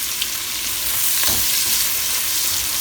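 Chopped vegetables sweating in a hot pan for a German stew, a loud, steady close sizzle throughout with a faint stir partway through.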